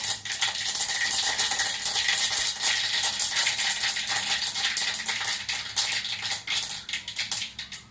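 Dense crackling and popping of mustard seeds spluttering in hot oil, close and continuous, with rapid sharp pops across the whole stretch.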